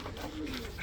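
Andijan pigeons give a brief, soft cooing burble at close range, steady and unbroken for under a second.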